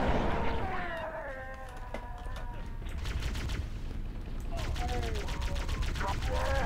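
Rapid gunfire bursts from the Halo 2 video game, with friendly fire hitting an ally, crackling steadily through the clip amid game sound effects and alien chatter.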